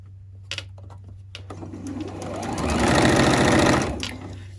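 Sewing machine stitching a fabric hair scrunchie, starting with a few faint clicks and handling sounds, then a rapid mechanical whirring that builds, holds for about a second and then winds down.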